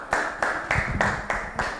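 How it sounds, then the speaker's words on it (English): A small audience claps for a group of presenters at a sustainability teaching workshop, with six distinct sharp bursts of hand claps at a steady rhythm, fairly close and moderately loud, without voices. "A round of applause for this group."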